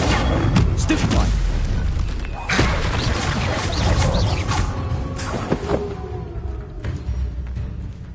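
Stupefy spell casts and impacts in Hogwarts Legacy combat: heavy booms and crashing hits in a dense, busy fight. Loud blasts come at irregular intervals over constant clatter.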